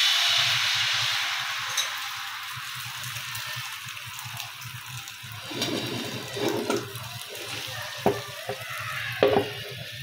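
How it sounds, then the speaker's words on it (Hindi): An egg frying in a pan, a hissing sizzle that starts strong and fades, followed by quieter crackling with a few sharp pops and clinks, close and moderately faint. "अब हम एग को फ्राई करेंगे।"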